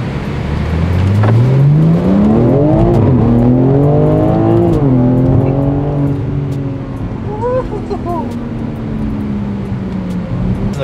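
A car engine revs up, its pitch climbing steadily through the gears with brief dips at each shift, loud and close, then settling into a steady drone.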